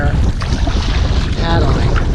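A strong headwind buffets the microphone on a kayak out on the water, a loud, rough, gusting roar that rumbles and flutters without pause.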